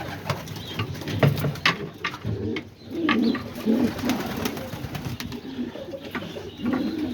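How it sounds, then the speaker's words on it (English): Homing and roller pigeons coo close by in soft repeated low throaty phrases, several overlapping calls amid light rustling and clicks. "Yeah, and here's these pigeons."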